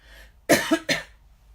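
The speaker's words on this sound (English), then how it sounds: "Sorry, I'm going to cough." Two sharp coughs close to the microphone, each a quick harsh burst, followed by near silence.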